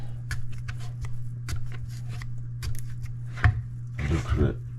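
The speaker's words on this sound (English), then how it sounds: "We need to punch them so that the gas, as it cooks, can be released." A knife stabbing and slashing raw sweet potatoes on a board, a series of soft scattered cutting taps over a steady low hum, ending in a brief louder rustle.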